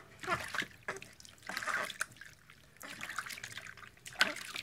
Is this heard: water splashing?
yes